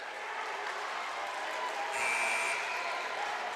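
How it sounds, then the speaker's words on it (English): A Russellville student section clapping at a high school basketball game, a steady wash of applause from a crowd in a gym, moderately loud and continuous, with no clear voices over it. "you got this student body here for Russellville, and they were clapping, excited"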